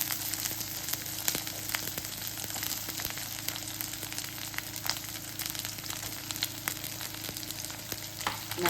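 Tomato, brinjal and drumstick sautéing in a pan: a steady, moderate sizzle with occasional sharp ticks and stirring clicks, continuous and close, with no talking.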